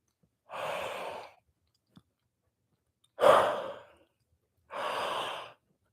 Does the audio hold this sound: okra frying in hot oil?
no